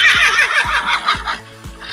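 Horse whinnies played through a phone app speaker, a series of bright rising-and-falling neighs repeated about four times in two seconds, loud and close, with no talk over them.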